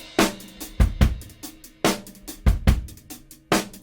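A Kontakt drum loop plays back as MIDI in Ableton, with punchy kick and snare hits and ticking hi-hats in a steady groove, close and clean with no talk.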